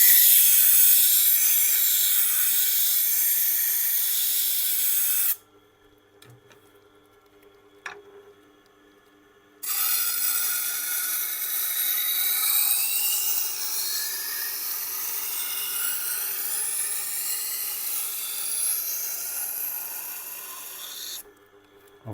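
A Wusthof Trident chef knife sharpened on a Tormek grinding wheel with rounded corners, a steady hissing rasp of steel on stone in two long passes separated by a quiet pause.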